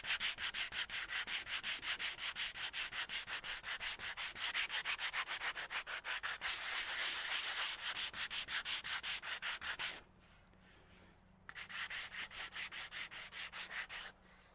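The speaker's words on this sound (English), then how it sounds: "I might give it a quick touch with some sandpaper." Hand sanding of a gate latch with 80 grit sandpaper makes a rapid, even back-and-forth scratching rub, close and steady, pausing briefly before resuming.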